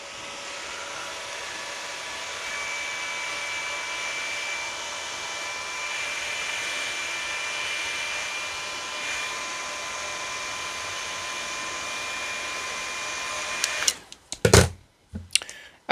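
A hair dryer blows to dry calamine lotion on a face: a steady, close whirring roar for about fourteen seconds, then it cuts off into a few sharp knocks and handling clatter.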